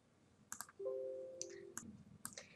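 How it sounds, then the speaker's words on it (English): A computer mouse clicks a few times, launching a Java program; the clicks are crisp, quiet and spaced apart, with a brief steady tone sounding between them. "So I'm going to run this program by clicking here."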